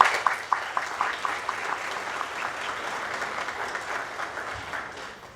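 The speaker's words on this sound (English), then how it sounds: "So another round of applause for Anne-Marie," An audience at a recognition reception gives a round of applause for a retiring colleague, a steady moderate patter of many hands opening with a few crisp claps and tapering slightly toward the end.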